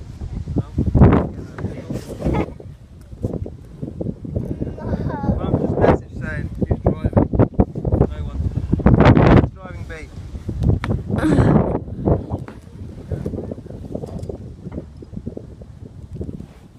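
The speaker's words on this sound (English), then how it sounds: "It's so goddamn windy." Strong gusting wind buffets an outdoor microphone near an SUV, a steady roaring rumble under several people talking close by.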